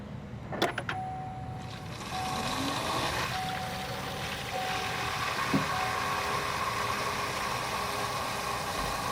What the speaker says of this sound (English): You can hear the pump working right now.